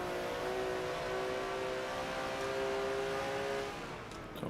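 Several race car engines, a group of Hondas in a sim racing endurance game, droning together in a steady, faint whine with tonal engine notes holding level before easing off near the end.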